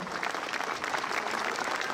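Brisk, full audience applause at an evening celebration of the 80th anniversary of the Liberation, many people clapping evenly and loudly throughout the short stretch.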